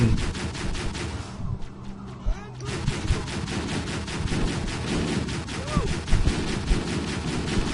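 Rapid, continuous gunfire in the video game Halo: Combat Evolved, loud automatic weapon bursts repeating throughout with a brief lull, and someone speaking over the shooting.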